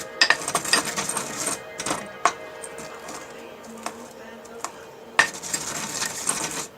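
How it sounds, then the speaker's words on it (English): A magical incense blend with dragon's blood resin is ground by hand, giving irregular sharp scraping and clinking strikes at close range, some sharper and louder than others, with quieter gritty rubbing between them. "So you're just going to grind it up as much as you possibly can."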